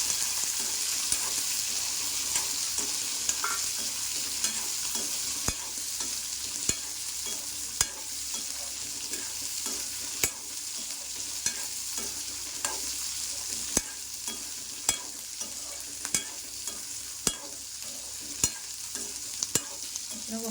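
Raw peanuts frying in a pan of tempering for peanut chutney, a continuous close sizzle with sharp clicks and taps as the mixture is stirred.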